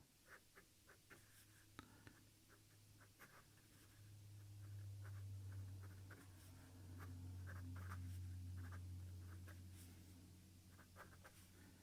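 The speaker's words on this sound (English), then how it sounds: "let's see how this pen actually writes." Majohn B25 fountain pen with a wet fine nib writing on paper, giving soft repeated scratchy strokes over steady low background hum, quiet and close.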